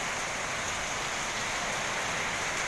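Heavy rain pours steadily and close by, a dense even hiss with no pauses and no voices.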